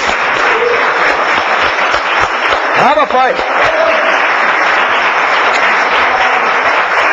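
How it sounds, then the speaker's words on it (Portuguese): Church congregation applauding for Jesus during a religious broadcast, a dense steady wash of clapping running the whole time, with a voice speaking briefly over it. "Salve de palmas ao Senhor Jesus."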